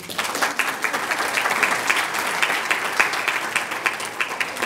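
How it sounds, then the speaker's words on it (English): A conference audience applauds steadily as a keynote speaker is introduced, with dense, even clapping from a fairly large crowd that holds for the whole stretch without any talking over it. "A round of applause."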